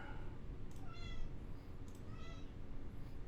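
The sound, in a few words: cat meowing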